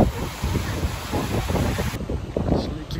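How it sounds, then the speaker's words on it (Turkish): Strong wind buffets the microphone in steady gusts at a beach in Northern Cyprus, mixed with the roar of surf, loud and continuous throughout. "Aşırı rüzgarlı bir hava var."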